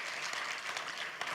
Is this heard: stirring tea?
no